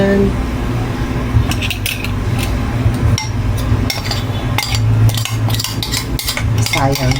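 A spoon clinks and scrapes around a bowl while stirring a steamed kalabasa squash cake mixture for dogs, with irregular close metallic taps over a low steady background hum.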